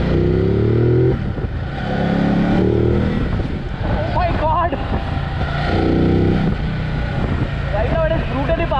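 A Ducati motorcycle in sport mode opens its throttle, with a loud engine rising in pitch through rapid revving bursts and gear changes, close and continuous throughout.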